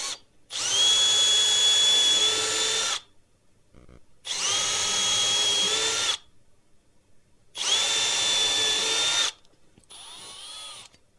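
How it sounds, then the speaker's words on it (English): A Milwaukee M12 Fuel 12-volt cordless drill whirs in three loud, close bursts of a few seconds each with short pauses between, driving a nail into wood, then a shorter high whine at the end. "I'll be using the Milwaukee Fuel M12 drill"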